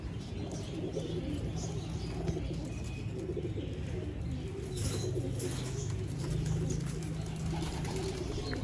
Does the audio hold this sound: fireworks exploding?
no